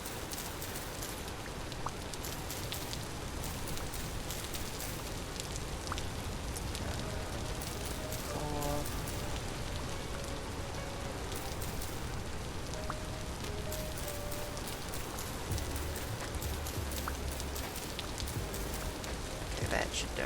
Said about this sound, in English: if adding a bit more roof saves me from the sound of rain, then it will be worth it